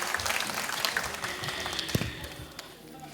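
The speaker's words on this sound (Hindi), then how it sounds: "मैं चाहती हूँ कि आप जोरदार तालियों के साथ अपना सम्मान करें" Audience applause at a Hindi poetry recital honoring a poetess, a steady wash of clapping across the whole stretch with a few sharper claps standing out, fading slightly toward the end.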